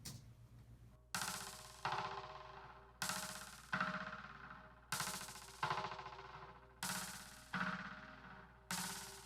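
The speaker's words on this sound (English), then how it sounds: "So I just added the stereo delay, ping pong delay to it." Sharp percussion hits repeat in a steady rhythm through a stereo ping-pong delay, each followed by bouncing echoes that ring out and decay before the next strike.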